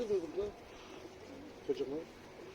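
A bird gives two soft cooing phrases, faint and close by, with a quiet pause between them.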